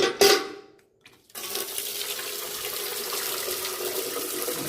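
Water poured out to wash a Manasa shrine, a brief splash at first, a short pause, then a steady rushing stream that keeps running close by with no voices.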